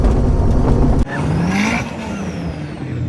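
A Vauxhall Nova Turbo on a straight-line run at Kirkbride Airfield roars loudly under acceleration, engine note rising, then a gear change and a higher whining climb as it pulls away.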